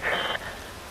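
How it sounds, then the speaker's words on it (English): Steady rain falls in the video game Metal Gear Rising, a dense hiss that is loud at first, then drops abruptly to a softer, even wash for the rest of the moment. "Wind blows. Rain falls."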